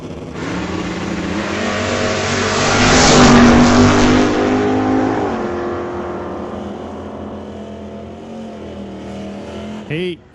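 A 1966 Chevy II and a 1966 Ford Mustang race past, their engines swelling to a loud roar before fading into a sustained drone, with a short burst of noise at the very end.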